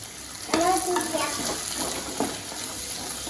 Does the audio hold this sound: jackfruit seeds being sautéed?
yes